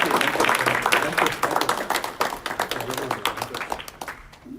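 Applause from the audience at a summer youth volunteer recognition event, a steady, moderately loud patter of many hands that thins toward the end.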